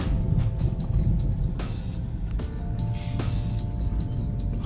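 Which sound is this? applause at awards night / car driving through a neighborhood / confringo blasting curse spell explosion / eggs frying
car driving through a neighborhood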